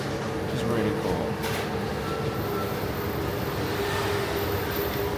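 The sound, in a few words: subway train ride in Vietnam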